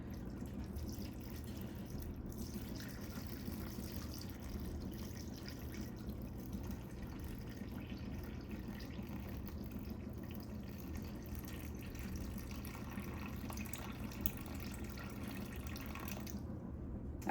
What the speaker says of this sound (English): So you always add the water to the starter and then mix it up.